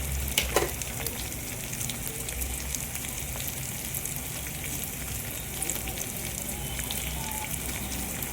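Curry leaves fry in hot oil in a pan while cooking jackfruit curry, giving a steady, close sizzling crackle that runs throughout with no talking.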